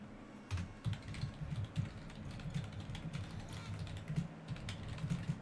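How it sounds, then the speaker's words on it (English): Rapid clicking keystrokes on a computer keyboard, a continuous irregular patter close to the microphone, with a low murmur of voices underneath. "Typing."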